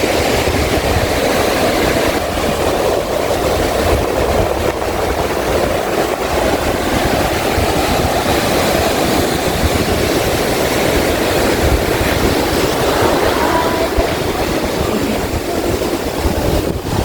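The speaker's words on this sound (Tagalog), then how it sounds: "Ang lakas ng alon." A strong sea surf roars steadily near a coast, a dense continuous wash of heavy waves under rain, loud and unbroken with no voices.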